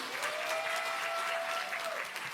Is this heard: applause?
yes